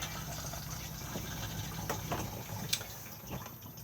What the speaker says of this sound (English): and then blue button to flush